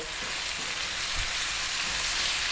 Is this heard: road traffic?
no